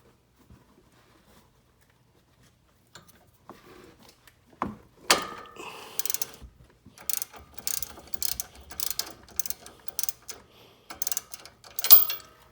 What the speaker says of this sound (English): what you're going to do is remove this bolt